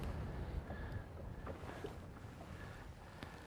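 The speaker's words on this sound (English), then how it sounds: "now the wind has definitely picked up. I'm sure you guys can hear that at home through our mics" Steady wind buffeting the microphones on a boat over shallow lake water during a Kentucky crappie jigging trip over stake beds, a constant broadband rush with faint knocks and no talking.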